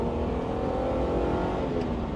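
Engine of an Alfa Romeo GTV6, heard as a steady, loud, rich drone under way, close and continuous with no talk over it.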